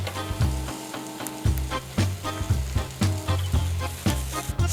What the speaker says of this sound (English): And I'm going to add our garlic.